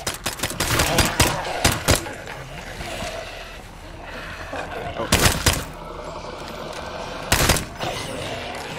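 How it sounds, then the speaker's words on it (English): Bursts of gunfire in State of Decay 2 come in short clusters: a rapid string at the start, another around the middle and a single sharp burst near the end, with quieter game ambience in between. "Start shooting."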